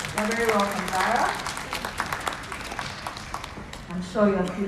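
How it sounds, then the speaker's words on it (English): Applause at a book launch event for an academy, a dense patter of clapping from an audience, with a voice speaking over it at the start and again near the end. "Round of applause."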